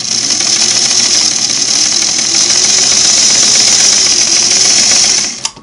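A Singer Model 513 sewing machine with a loose, wobbling hand wheel runs loud and continuous nearby, a dense mechanical whir with rapid chatter, then winds down and stops at the end.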